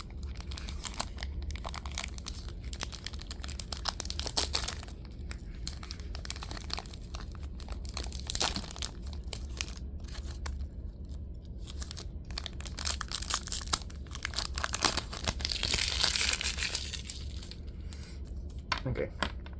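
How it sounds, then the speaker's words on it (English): Foil of a Hobbit trading card booster pack crinkles and tears as it is ripped open by hand, a long stretch of close, busy crackling and rustling with a voice talking over parts of it. "Let me rip this side."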